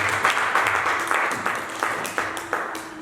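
A church congregation claps and applauds in worship, a steady, fairly loud wash of many hands with rhythmic surges, heard alone without speech.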